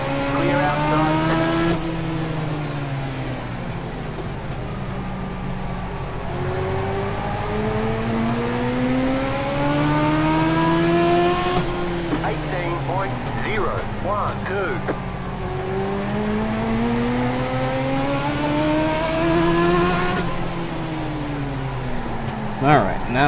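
Legends race cars lapping the track at Charlotte, engines droning and rising and falling in pitch as they accelerate and pass, with a spotter's voice briefly breaking in over the steady roar.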